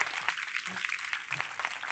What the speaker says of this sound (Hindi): हालेलुया जोरदार ताली बजाएंगे